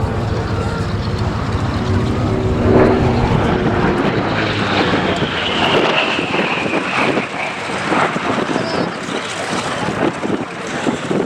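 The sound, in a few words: Grumman Bearcat piston-engine fighter aircraft flying at air show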